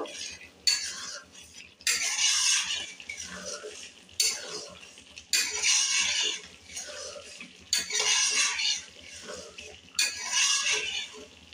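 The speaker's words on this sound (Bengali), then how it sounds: "এবার এর মধ্যে দেব গরম মশলা। ভালো করে নাড়িয়ে দেব।" A metal spoon stirs paneer do pyaaza with garam masala in a pan, giving repeated scraping, clattering strokes in bursts about every two seconds, fairly close, with a faint voice underneath at times.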